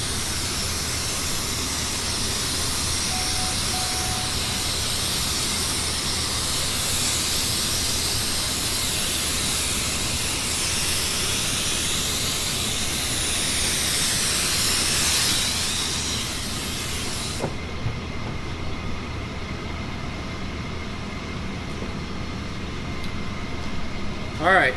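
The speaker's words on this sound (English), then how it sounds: "On this one, I'm actually going to be spraying it like this all the way through" Spraying during water transfer printing: a steady, loud hiss of spray running for about seventeen seconds, then cutting off to a quieter background hum, with a voice talking over it.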